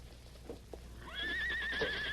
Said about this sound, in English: There's a horse beyond that rock.